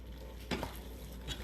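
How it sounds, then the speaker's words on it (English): Spinach cooking down in a pan for cheesy rigatoni, a soft continuous sizzle with a couple of clinking utensil stirs against the pan. "Let that spinach cook down a little bit."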